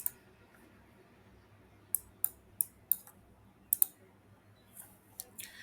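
Computer mouse clicks while working in QGIS mapping software: sharp, close, faint clicks, a scattered handful with a quick run of four or five in the middle, set against quiet room hiss and no talking.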